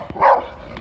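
A single short bark from one of several dogs roaming loose in a residential neighborhood, close and fairly loud over faint background noise.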